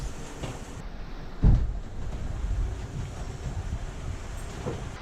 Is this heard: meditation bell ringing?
no